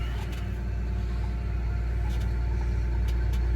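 A John Deere 750K crawler dozer idles with a low, steady diesel rumble while being eased slowly off a trailer at low RPM on a farm, with faint metallic clanks over the continuous engine drone.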